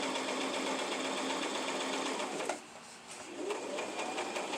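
A home sewing machine runs steadily while stitching a drawstring face mask, with a brief pause partway through as the fabric is lifted and turned before the whirring stitching resumes, loud and close.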